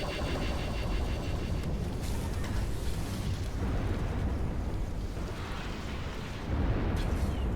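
Artillery dreadnought in Ashes of the Singularity: Escalation unleashing a continuous barrage, dense overlapping booms and rumbling blasts blended with mechanical engine drone, loud and sustained with no talking.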